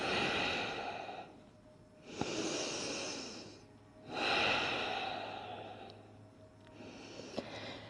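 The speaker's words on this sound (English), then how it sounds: "take 2 more nice deep breaths" Slow, deep breaths during a back stretch on the floor, with three long audible inhale-exhale cycles spaced a few seconds apart, close and soft, with no talking.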